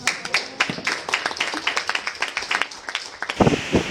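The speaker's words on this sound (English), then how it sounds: "everybody here deserves a round of applause" A small group in a room gives a round of applause, scattered irregular claps close by that swell into a quick burst near the end, with a few voices mingling.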